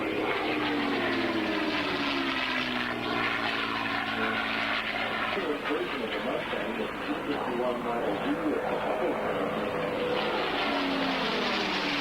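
A 1944 P-51 Mustang warbird flies at an airshow, its propeller engine droning loud and steady with a slowly shifting pitch as it passes. Heavy, continuous, and close, with crowd and wind noise beneath.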